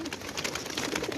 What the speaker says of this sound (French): les pigeons sont prêts à partir pour leur première course